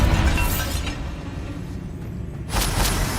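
A Bombarda blast spell in Hogwarts Legacy during a spider fight, a loud, dense rumbling burst that sustains at the start, settles into a steady roar, then swells again near the end.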